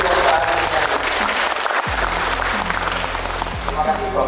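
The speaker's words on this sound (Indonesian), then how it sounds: "Tepuk tangan untuk seluruh direktur." An audience applauds the directors at a formal ceremony inaugurating a village enterprise forum in Magetan, steady clapping throughout with a low tonal hum and voices mixed underneath.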